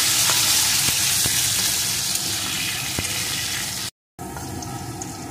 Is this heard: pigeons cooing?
no